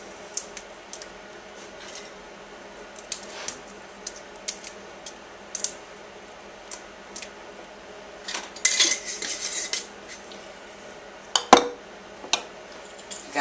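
Dehydrated sweet peppers broken apart into a pot, a scattering of light dry clicks and crisp crackles, with a brief louder rustling burst and a sharp clink near the end, no talk.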